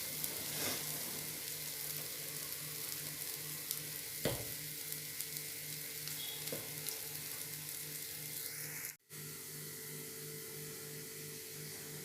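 Stuffed eggplants sizzle and fry steadily in a hot pan of oil, a continuous crackling hiss with a few small clicks and no voices.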